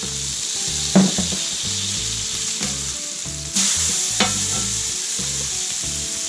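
Blackened grouper fillets fry in butter on a Blackstone griddle with a continuous, close sizzle, broken by a few sharp ticks and spatula taps.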